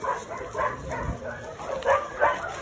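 Several dogs bark and yip in short bursts at a moderate distance in a vet's waiting area, with some voices murmuring in the background.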